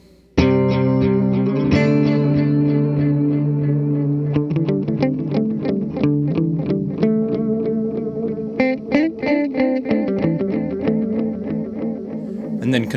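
Encounter ambient delay and reverb pedal on a tape engine with tape age maxed, wobbling, saturated guitar chords and quick repeated plucks, warbling pitch and gritty tone, loud and with no talking.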